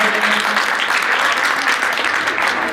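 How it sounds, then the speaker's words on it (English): A short burst of loud, dense applause from an audience at a 2018 post-prom show, continuous clapping filling the whole few seconds with no talking. "Give them all a big round of applause, ladies and gentlemen."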